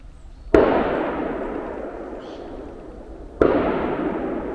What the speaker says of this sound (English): And gunshots echo through the forest.